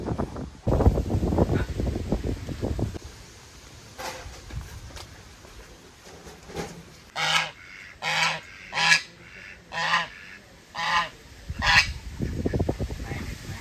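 After some low rustling and murmuring, a white duck calls in a series of about seven loud, nasal honking quacks at a steady rhythm, close by.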